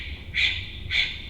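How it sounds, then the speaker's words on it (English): Two sharp, forceful breath bursts about half a second apart, a breath of fire breathing exercise during a power flow fitness class, close and clear over a quiet background. "hold, breath of fire. Here we go."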